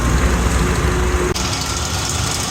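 A rebuilt Kelly Duplex 3-ton mixer unit runs with a steady, loud mechanical hum and drone, constant throughout with one brief dip partway, and no voices.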